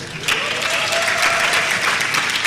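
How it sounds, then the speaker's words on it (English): A convocation crowd at a university graduation ceremony claps for first-class graduates, a loud, full burst of many hands rising suddenly and holding steady, with a faint voice faintly audible beneath it. "Applause for the first-class graduates."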